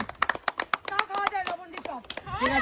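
During a bottle flip game, a few people clap in quick rhythmic bursts at close range, then excited voices take over and talk over the last claps.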